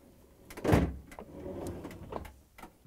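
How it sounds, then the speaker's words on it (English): A Samsung freezer drawer is lowered and pushed in along its rails, giving one loud sliding thud followed by softer rolling and clicking as it settles. "we're going to let the drawer down and push it in so it will locks down at the bottom"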